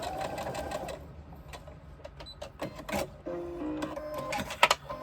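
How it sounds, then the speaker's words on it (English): A sewing machine runs short bursts of stitching across the top of a crossbody bag, with brief pauses between runs as the work is turned. "I keep turning it to make it the easiest way to stitch, and we stitch back across the top and end it off"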